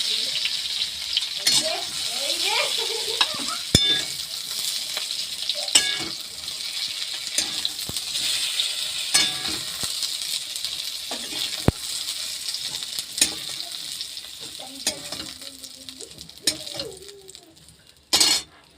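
Pointed gourd and potato pieces with salt and turmeric frying in a pan under a steady moderate sizzle, with repeated stirring scrapes and clinks of a utensil against metal, and a short louder rattle at the end.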